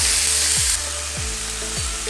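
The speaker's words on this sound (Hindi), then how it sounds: "इसको भी इसमें डाल के इसको फ्राई करेंगे।" Chicken mince fries in a pan with a bright, steady sizzle that drops a little quieter after a moment, while metal scrapes and clanks of stirring come a few times in a loose rhythm.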